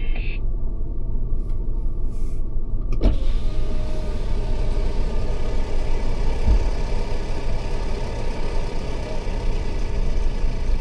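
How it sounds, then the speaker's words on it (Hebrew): A car's electric power window opens while the vehicle sits on sand with its engine running, the steady motor whine carrying on for several seconds beneath a constant broadband engine rumble, with no speech. "תני לי, תפתחי חלון."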